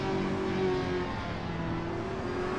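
Race car engine in a sim racing game at the Zandvoort circuit during an online league race, a loud, sustained droning whine holding a steady pitch as the car heads toward a chicane, with no talking.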